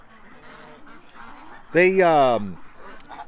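A goose's nasal honking call rises loud and close for nearly a second, at dusk while ducks and geese are being shut in for the night, with a voice speaking quietly before it.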